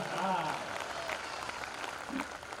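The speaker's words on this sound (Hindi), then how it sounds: "तालियां बजा दीजिए, अध्याय समाप्त हुआ।" Audience applause at a Hindi comic poetry gathering, a moderate wash of clapping with a voice speaking over it.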